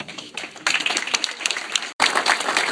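Applause from a banquet crowd at a roast for Mayor Joseph Tempesta of West Caldwell, a dense steady clapping that swells, breaks off for a split second, then resumes just as loud.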